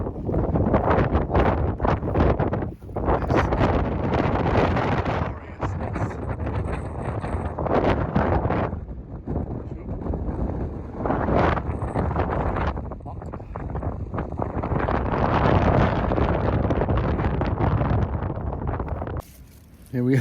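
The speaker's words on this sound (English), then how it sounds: "It's so nice to be out of the wind." Strong wind buffets the microphone at a camping spot in Scotland, a loud, continuous roaring rumble with gusty surges that hardly lets up across the whole stretch before dropping briefly near the end.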